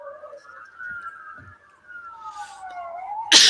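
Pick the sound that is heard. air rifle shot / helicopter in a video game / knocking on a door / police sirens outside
police sirens outside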